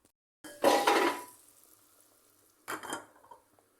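A lid clatters onto a metal pot of water set to boil, with a sharp clanking burst followed by a second, shorter metallic rattle, close and otherwise quiet.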